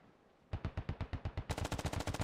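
Gunfire in the video game SquadOps rattles in rapid automatic bursts, with a steady string of shots followed by a faster, louder volley, close and sharp with no talk.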